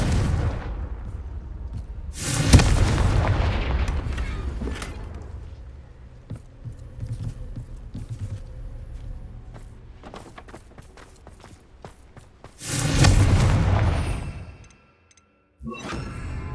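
Confringo spell explosions in the video game Hogwarts Legacy, two loud booming blasts several seconds apart, each with a long fading rumble, between quieter stretches of game ambience and scattered clicks.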